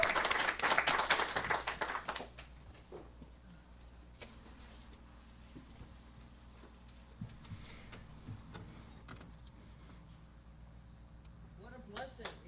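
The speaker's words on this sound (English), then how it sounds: "Give Daniel a big clap." A congregation at a Sunday service claps for a guest musician, a short burst of loud applause that dies away after about two seconds, leaving a quiet room with scattered small sounds and a few late claps.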